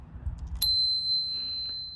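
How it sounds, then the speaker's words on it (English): A single sharp bell ding from a 2005 Kona Cinder Cone bicycle rings out clearly, its bright tone lingering and slowly fading over a quiet, low rumbling background. "if you're bombing along and you don't have time to slow, hit that bell"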